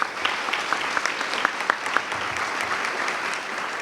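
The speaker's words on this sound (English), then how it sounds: "Go on and give her a round of applause" A round of applause from an audience at a customer service excellence event, dense and steady clapping at moderate volume with a few sharper individual claps standing out.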